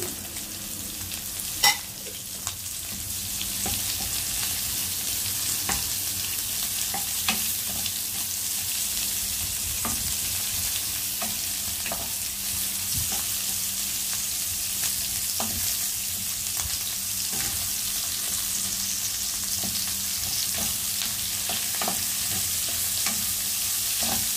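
Onion sautéing in a pan for ginisang cabbage, a loud continuous hiss of frying oil with scattered faint ticks and pops and occasional stirring, steady throughout with no talk.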